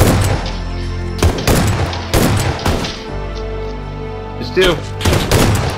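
Gunfire from a PUBG match: several sharp, loud shots in separate bursts across the span, mixed with game noise, while a voice briefly speaks over it.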